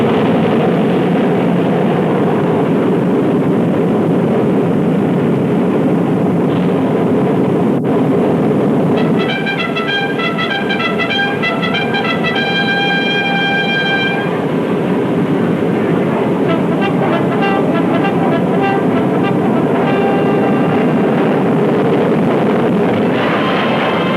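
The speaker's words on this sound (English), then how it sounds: "In a matter of seconds, this 100-ton giant is airborne." A 100-ton Northrop Flying Wing aircraft takes off with a loud, steady engine roar mixed with wind rush, and a thin tonal whine rises partway through.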